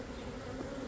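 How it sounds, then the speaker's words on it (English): A few bees buzz on burlap during a hive rescue on a farm, a faint continuous drone that stays steady and close, with no voices. "Just to shake off these few bees that are on it."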